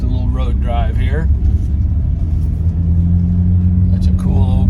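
A 1990 BMW 735iL on a road drive, its steady low engine and road rumble filling the cabin throughout, with voices talking over it at the start and end.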